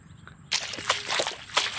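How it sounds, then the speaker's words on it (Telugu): Floodwater draining out of a waterlogged paddy field, a sudden gush of sloshing, splashing water that starts after a quiet moment and keeps flowing close by. "చూడండి పొలంలో వాటర్ బయటికి పంపించేస్తాను"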